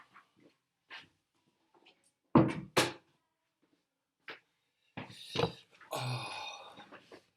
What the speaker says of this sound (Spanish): voy a cerrar la puerta